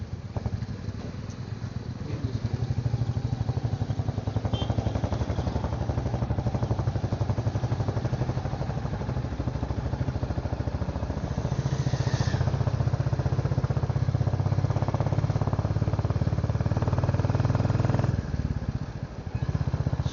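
A motorcycle cruising on an ordinary road holds a steady, loud engine drone with a low rumble and wind noise throughout, briefly easing near the end.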